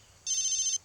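A mobile phone ringtone sounds as one short, bright electronic trill lasting about half a second, clear and close against near silence.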